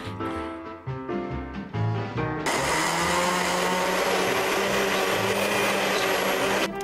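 Bananas being mashed in an electric blender, starting with a few short stuttering pulses before the motor settles into a loud, steady whirring roar that runs close and uninterrupted, with no talk.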